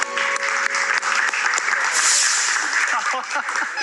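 A studio audience at a TV game show breaks into dense, loud clapping that carries on steadily, with voices talking through it.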